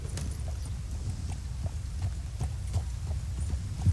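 Horse hooves clip-clop steadily in the video game Red Dead Redemption 2, a regular rhythmic plodding of soft thuds, low and muffled under a constant hum, with no talking.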